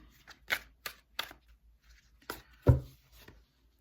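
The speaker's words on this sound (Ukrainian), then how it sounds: "Буду витягувати карти, і карти нам все розкажуть" Soft papery slaps and flicks of tarot cards being shuffled and drawn, a handful of separate taps followed by one louder snap, close by in a quiet room.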